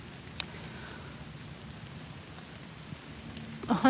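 Cold rain pours steadily at a Fort Houston cemetery in Texas, a soft continuous patter on surfaces close by with a faint low rumble, ending in a brief louder bump.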